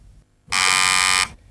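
A single loud, harsh electronic quiz-show buzzer sounds for about three-quarters of a second, steady and flat, then cuts off abruptly.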